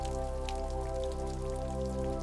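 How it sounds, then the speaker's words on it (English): Gentle rain patters on leaves in a forest, a soft, steady scatter of drops beneath a continuous low ambient hum, with no voices present. "Maya awoke to the sound of gentle rain pattering on the leaves above her"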